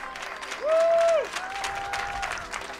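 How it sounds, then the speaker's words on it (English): Crowd applauding athletes at an archery national tour final, a steady patter of clapping in a large venue with a brief sustained electronic tone sounding over it. "please give a warm round of applause to our athletes"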